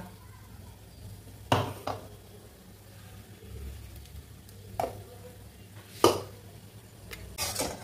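Ground tomato paste goes into a pan of potol chingri (pointed gourd with prawns) cooked in very little oil; a few sharp utensil clanks ring against the pan over a faint, steady background sizzle.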